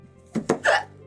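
A person with hiccups gives a couple of abrupt, throaty hiccup sounds close to the microphone, each a brief sharp catch of breath over a faint background.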